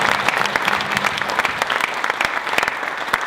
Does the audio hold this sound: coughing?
no